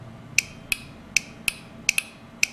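Electromagnetic relay contacts clicking as the coil is energized, seven sharp, close metallic clicks at irregular intervals over a quiet background.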